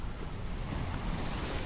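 Ocean waves washing along a coastline in an Unreal Engine 5.3 fluid simulation, a continuous loud rushing surf with a steady roar and no distinct breaks or voices.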